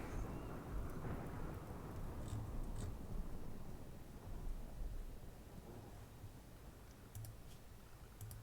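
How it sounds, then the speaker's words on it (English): Low rumbling thunder and steady rain hiss in RimWorld, with scattered keyboard clicks on top and no talking. "Wait, it's raining?"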